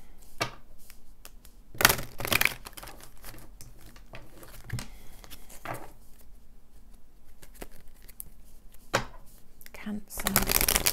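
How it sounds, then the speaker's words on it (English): Oracle cards shuffle in quick, crisp riffling bursts near the mic, broken up by soft taps and rustles. "Let's pull your love oracles."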